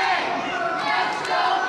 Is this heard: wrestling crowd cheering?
yes